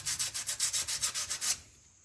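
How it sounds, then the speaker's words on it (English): Sandpaper rubbed by hand over metal brake parts on a Ford F100 under restoration, about nine quick rhythmic back-and-forth strokes, close and bright, then a sudden stop, with no talk. "I'm gonna get some good old sandpaper in here"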